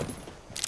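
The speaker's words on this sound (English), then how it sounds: "Swapping mags." A magazine swap in Rainbow Six Siege: a short metallic clatter and click, brief and fairly close, over a low background hum.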